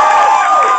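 Open mic crowd cheering, whooping and shouting at close range, a dense continuous burst of audience noise with no clear talk over it.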